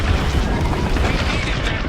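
A deep, loud boom with crashing debris as a space station's dish is blown apart in Star Wars Squadrons, a dense rumbling blast filling the short moment.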